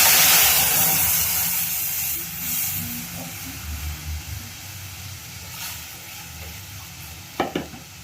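Buttermilk kadhi mixture goes into a hot tempering of cumin, mustard seeds and curry leaves, opening with a loud hiss and sizzle that fades into quieter bubbling and stirring, with a couple of sharp clinks near the end.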